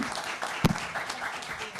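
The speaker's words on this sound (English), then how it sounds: "Please give a huge round of applause to our panelists." Brief applause from the audience for the panelists at the close of a water access side-event session, soft and distant, with a faint voice under it.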